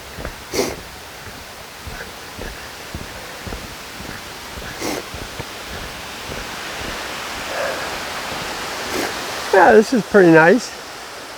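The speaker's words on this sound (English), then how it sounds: "Nice little waterfall there." A small waterfall on a steep walking trail, a steady broadband rush of falling water running through the whole clip, with someone speaking briefly near the end.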